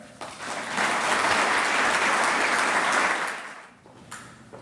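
A crowd applauding steadily, dense clapping that swells in, holds for several seconds, then tapers off with a few scattered claps.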